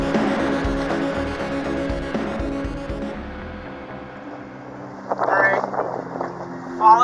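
Heeled-over sailboat under way in wind on open sea, a steady rush of wind and water with creaking rig, then brief voices in the last seconds.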